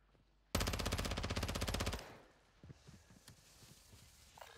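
Warzone video game gunfire: a loud, rapid automatic burst of about a dozen shots lasts roughly a second and a half, then gives way to quieter footsteps and scattered clicks.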